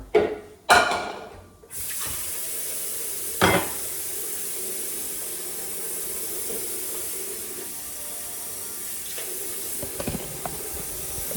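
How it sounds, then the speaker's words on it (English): Tap water runs steadily into a pan on a home kitchen counter, with a few sharp clanks of the pan at the start and one more knock partway through. "let's add some water, not much, just a little bit."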